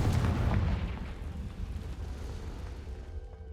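A Confringo blast spell explodes in the Hogwarts Legacy video game, a single loud, deep boom at the start that rumbles and fades out over a few seconds.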